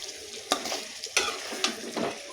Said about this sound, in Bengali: এজন্য মাংস কষিয়ে নিচ্ছি